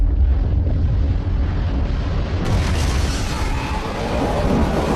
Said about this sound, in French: Tout le monde pensait que le président et l'enfant étaient morts dans l'explosion.